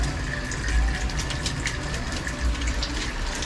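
Tap water runs steadily while breadfruit is rinsed in a Jamaican kitchen, a continuous close splashing gush with no talk over it.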